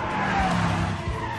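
Tyres on a Bugatti Chiron skid hard at a Michelin test centre, producing a loud, continuous squeal with engine and road noise that holds for the whole moment.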